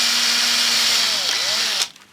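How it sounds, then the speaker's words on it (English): Power drill boring a hole in the cabinet of a 1955 EKCO U245 valve radio for its small logo: steady loud whine with a slight pitch dip under load, then the motor cuts off abruptly. "I need to re-drill a hole for this little EKCO logo."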